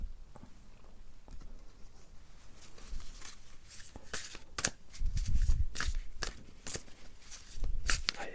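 Tarot cards are handled and drawn from a deck during a quiet cartomancy reading: soft papery shuffles, slides and crisp flicks that grow busier and louder toward the end, close to the ear.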